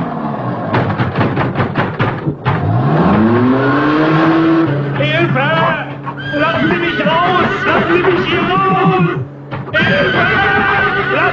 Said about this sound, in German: Machen Sie nicht solchen Höllenlärm! Stellen Sie den Motor ab!